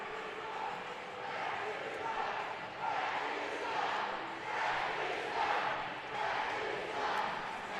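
Hockey crowd at the Covelli Center in Youngstown voicing displeasure at the officials, a sustained roar that rises and falls in rhythmic waves like chanting, with announcer talk underneath.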